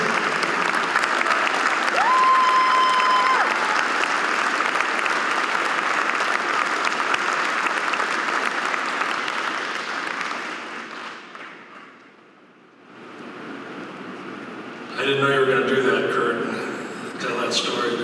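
An awards-ceremony audience at the Wisconsin Aviation Hall of Fame applauds in a loud, sustained wave that fades after about twelve seconds, followed by a person beginning to speak.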